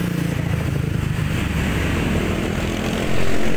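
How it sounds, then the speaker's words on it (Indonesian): Sumber Alam intercity bus bound for Yogyakarta passing on a busy road beside a traditional market, a steady close engine roar with broadband traffic noise that swells louder in the final moments. "yang melintas ini adalah bus Sumber Alam jurusan Yogyakarta"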